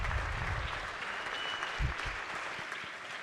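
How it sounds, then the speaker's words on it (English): Steady applause in a state House chamber as members rise for a former delegate seated in the gallery, a full round of clapping with a few low thumps of movement beneath it. "If you all would please stand and give her a round of applause."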